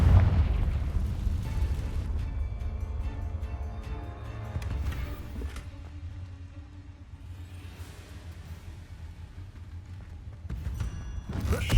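Confringo fire-spell explosion in Hogwarts Legacy: a heavy boom with a rumbling burst at the start, fading into a lower, softer ambience, then another loud swell of blast at the end.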